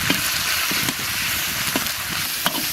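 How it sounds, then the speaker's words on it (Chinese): Beef stir-fries in a wok with scallion, ginger, dried chilies and Sichuan peppercorns, a loud continuous sizzle punctuated by a few sharp spatula scrapes and clacks against the pan. "牛肉炒上色，下入葱姜、干辣椒、花椒，来一勺香辣酱，1勺黄豆酱。"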